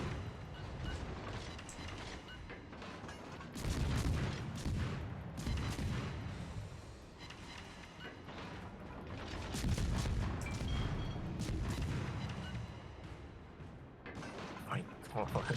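Naval artillery batteries firing in World of Warships, heavy booming salvos and rumbling blasts recurring in bursts over a continuous battle din, loud and dense with mechanical clatter throughout.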